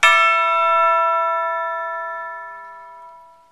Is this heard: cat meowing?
no